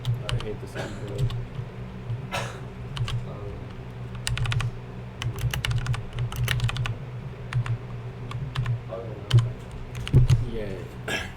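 Computer keyboard typing during a Unity game programming session, with irregular bursts of clattering keystrokes running throughout, close and fairly loud, over a low steady background hum.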